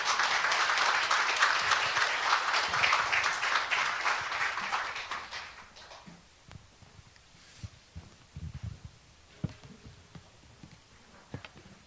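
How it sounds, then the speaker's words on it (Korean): A church congregation applauds warmly as a woman comes forward to give a testimony, with dense clapping for about five seconds that fades into scattered claps and quiet shuffling. "박수로 환영하겠습니다"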